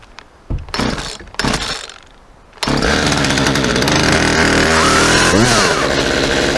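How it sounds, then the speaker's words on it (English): Small, decades-old Craftsman chainsaw bucking a storm-downed tree: a few sputtering starts, then a loud sustained roar with rising and falling pitch as it cuts. "I'm gonna try to buck some of this up with my cheap little Craftsman chainsaw"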